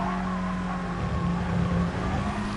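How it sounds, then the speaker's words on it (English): Turbocharged VW Cup race cars in the Gran Turismo Sport racing game drone steadily as throttle is held through a corner, a continuous engine tone with faint tire noise and no voices. "So you can just hear how balanced Fraser's throttle inputs are through Surtees."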